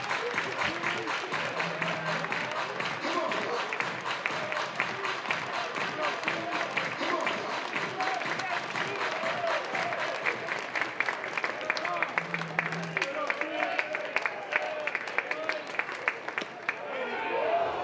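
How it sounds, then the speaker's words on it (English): Spectators at an NCAA college baseball game between High Point and North Carolina clap steadily and densely for the whole stretch, a continuous crowd patter with a commentator speaking over it. "Everybody clap your hands."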